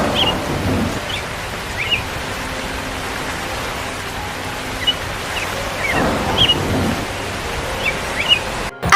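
Steady rain with rumbles of thunder in a cartoon storm scene, a continuous wash of downpour with a couple of louder thunder swells and faint bird-like chirps, no voices.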